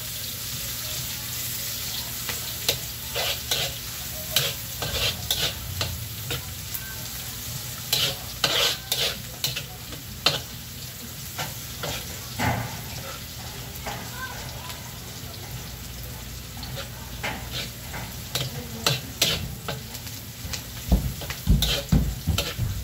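Garlic sizzles while being stirred in a pan for Filipino-style sweet and sour fish, with repeated scraping stirs over a steady frying hiss, close and moderately loud, with occasional splashes.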